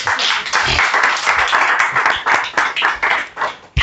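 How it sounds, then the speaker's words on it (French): Congregation clapping and cheering in praise during a Christian prayer meeting on the gift of tongues, a loud, dense burst of hand claps with uneven rhythm that carries on for a few seconds, with voices mixed in. "Ça mérite quand même une acclamation pour le Seigneur."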